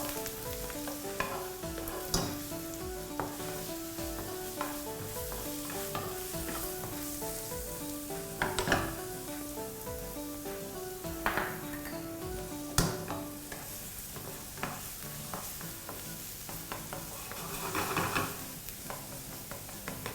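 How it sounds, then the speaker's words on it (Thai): Garlic stir-frying in oil in a pan at moderate heat for squid with garlic and pepper, a steady soft sizzle with intermittent scraping and stirring clatter, close and continuous. "กระเทียมที่เรามาผัดกับน้ำมันเนี่ยผมจะ ตั้งใจไม่ให้เขากรอบ ไม่ให้เขาสุกมากนะฮะ"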